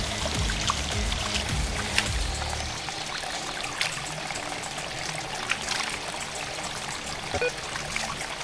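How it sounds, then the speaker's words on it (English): Water trickles and splashes steadily around the feet of a toy Spinosaurus figure, a close, continuous wash of small splashes with a low rumble in the first few seconds. "now I'll splash some water around the Spinosaurus' feet to suggest movement and motion towards the DeLorean"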